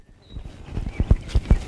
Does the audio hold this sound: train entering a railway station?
no